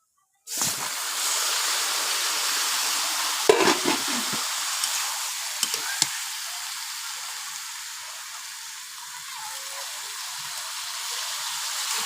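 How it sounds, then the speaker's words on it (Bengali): Malabar spinach frying in a pan of shrimp masala gives a loud, steady sizzle that holds throughout, with a few brief stirring clatters near the start and middle. "এই দেখুন দিয়ে দেবো ভেজে রাখা পুঁই শাকগুলো"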